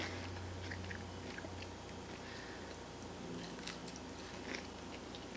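Veggie Grill cauliflower in a sweet and sour sauce being bitten and chewed up close: soft, quiet crunching and moist mouth sounds repeating irregularly against low room noise, with no talking.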